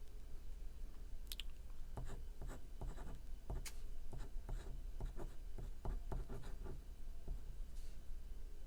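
A pen scratching across paper during a first-impressions test of new stationery, making a run of close, quiet strokes and ticks in an irregular rhythm over a faint steady hum, with no talking.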